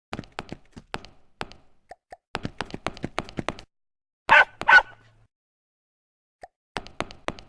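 A dog in the video game Bertram Fiddle gives two short, sharp barks midway through, loud and close, surrounded by a rapid series of dry plopping clicks and knocks with silent gaps between them.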